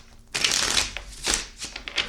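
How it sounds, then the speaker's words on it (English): Cards being shuffled in a few quick riffling bursts, crisp papery flutters close by with short pauses between them. "These cards do not want to shuffle."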